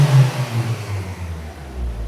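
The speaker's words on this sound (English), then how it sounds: "So if I rev it" Nissan NV300 van diesel engine revving up close, a steady low mechanical drone that swells and eases as the throttle is worked, heard alone without talk.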